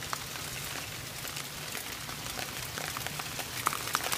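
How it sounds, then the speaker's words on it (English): Outdoors, a hailstorm rattles down in an even, continuous hiss of small pellets, with scattered crisp clicks of individual stones landing nearby near the end; no voices. "Is this like a hailstorm?"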